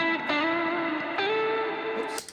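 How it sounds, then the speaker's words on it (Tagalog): An electric guitar played through a Cube Baby amp with reverb and other effects on, ringing out in sustained, processed notes that change pitch a few times and trail off with a wash at the end. "Oops, meron tayong reverb."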